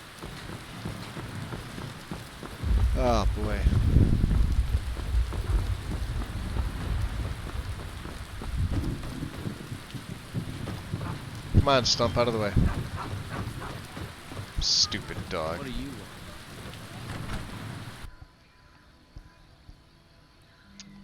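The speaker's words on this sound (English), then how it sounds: "Oh, raining in Riverwood." Steady rain falls over Riverwood in a video game, a constant broadband hiss under someone talking to a dog, with a few louder bursts before it cuts off near the end.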